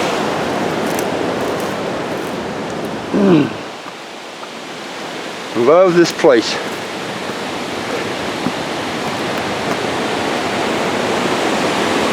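A Colorado mountain river rushes past the trail to Lower Slate Lake in the Eagle's Nest Wilderness, a loud steady roar of water filling the whole scene, with a hiker speaking briefly over it.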